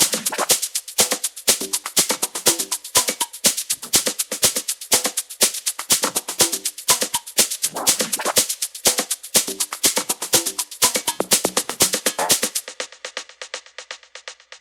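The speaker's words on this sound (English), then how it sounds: "the whole drum group sounds like this" A full electronic drum group from a produced Ableton Live track, with steady loud kick and snare hits and dense bright percussion driving a rhythmic loop, thinning out abruptly near the end as before a drop; no talking.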